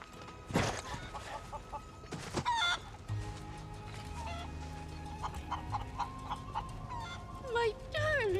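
Chickens clucking in the Final Fantasy VII Rebirth game, a flock of close, lively clucks and squawks with a brief crow, mixed with background game music and a voice talking.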